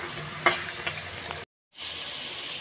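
Spiced masala with chopped tomato sizzles in a wok, a soft steady frying hiss with a few clicks of the stirring spoon, broken by a brief full silence before the sizzle resumes.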